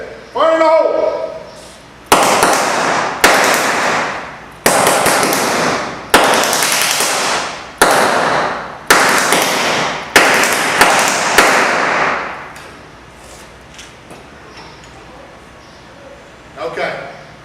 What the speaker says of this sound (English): we're going to show that the fire is jumping through an open check valve, through the Lexan tube, and hopefully we'll put it out in the flash arrest